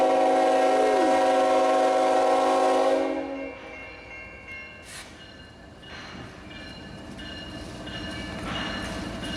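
A GE ET44AH locomotive, Union Pacific 2670, pulls a Norfolk Southern local freight train: a loud, sustained horn blast sounds for about three seconds, then the rumble of the passing train continues at a steady level.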